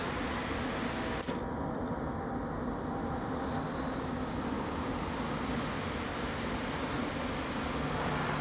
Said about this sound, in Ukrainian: Бачимо, цей Бакфаст стрівний. Активно літають вони.